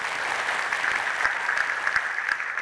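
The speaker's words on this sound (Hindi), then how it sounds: "असद को हम बहुत सारी तालियों में रुखसत करेंगे" Studio audience on a Pakistani cooking game show applauds steadily to see off a contestant, a dense, even clatter of clapping that holds at a constant level throughout.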